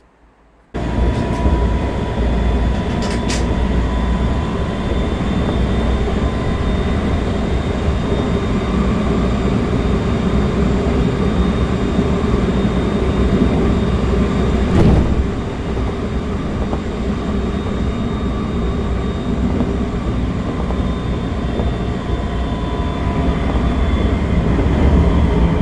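Steady, loud rumble of a train at a station in Japan, with continuous low mechanical noise and a faint high whine holding throughout, no voices heard.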